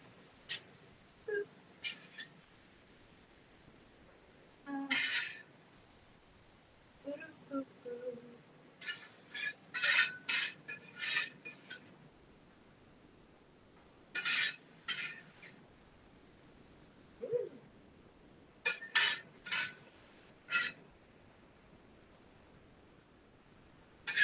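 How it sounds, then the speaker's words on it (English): Utensils clink and scrape against dishes as sautéed onions and mushrooms are spooned onto a sauce base in a home kitchen, a series of sharp, scattered metallic taps and short bursts with quiet pauses between. "I'm gonna throw on my kind of sautéed onions and mushrooms for my base."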